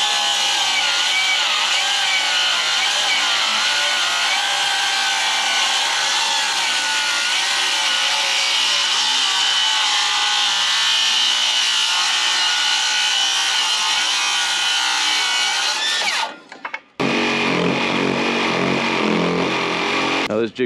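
A jigsaw with a worn, dull blade cuts a notch in wood for a custom shed build, a loud, continuous buzzing rasp for about sixteen seconds, then a sudden stop and a quieter stretch.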